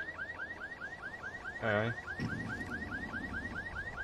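An alarm in a video game, set off by someone stealing a bin, repeats a rapid, rising chirping tone on a steady pulse throughout. A voice briefly exclaims partway through.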